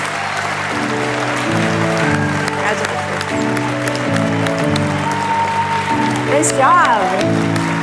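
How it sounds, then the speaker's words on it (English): An audience at the James Beard Restaurant and Chef Awards applauds the American Classics winners, a continuous round of clapping beneath music and a voice speaking over it. "And one last round of applause for our American classics"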